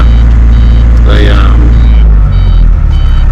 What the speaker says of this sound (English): I don't know why his machine's beeping at me when it's beeping at me.